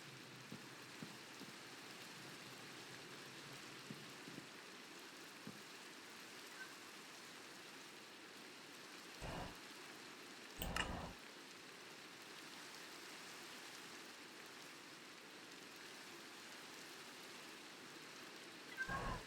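Steady, quiet rain falls in a video game, a soft continuous patter with a few brief louder knocks breaking through; no voices.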